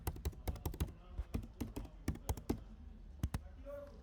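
A computer keyboard is typed on in quick, crisp bursts of close key clicks, a steady run of strokes with a brief pause near the end, and no voices.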